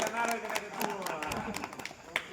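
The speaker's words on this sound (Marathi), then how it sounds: "टाळ्या." Scattered hand claps come from a small group at a birthday celebration, uneven and fairly close, mixed with people talking and calling out.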